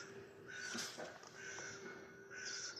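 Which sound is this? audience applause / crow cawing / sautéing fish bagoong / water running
crow cawing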